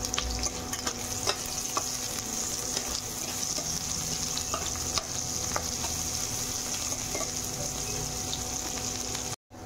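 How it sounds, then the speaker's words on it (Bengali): Chopped onion with a pinch of salt fries in hot oil in a pan, giving a steady close sizzle with occasional clinks and scrapes of stirring, no talking. "পেঁয়াজ কুচি, পেঁয়াজটাকে ভেজে নেব"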